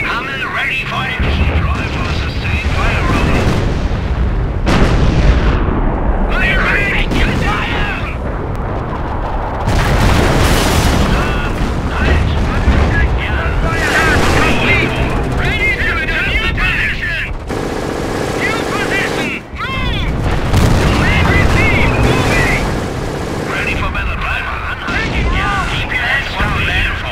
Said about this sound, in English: We are taking return fire.